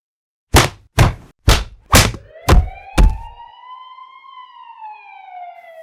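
Six heavy thumps in quick succession give way to a police siren sound effect, a single rising and slowly wavering tone that holds loud and steady to the end.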